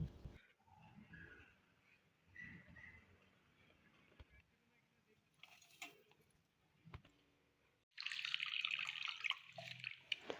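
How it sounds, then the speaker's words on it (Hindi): Water splashes and runs over greasy tiled floor on a car porch as it is washed, a loud continuous rush of pouring and spraying after quieter dripping and shuffling, with a soft voice in the background early on. "अपने फ़र्श को पानी के साथ अच्छी तरह धो लूँगी"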